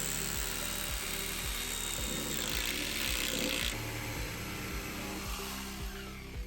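Power drill boring a long diagonal hole through concrete, a loud, steady grinding drone with a rapid rhythmic pulsing, close and continuous throughout.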